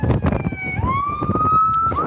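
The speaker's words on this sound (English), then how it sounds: "We have more ambulances coming down the strip here." Ambulance sirens on the Las Vegas Strip, a loud nearby wailing siren sweeping up and holding its pitch over the rumble of traffic, with no talk.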